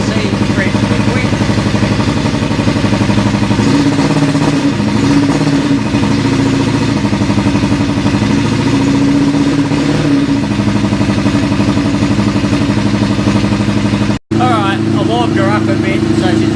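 A stationary car engine runs at a steady idle with a dense continuous rumble, the revs lifting a little now and then, loud and close throughout.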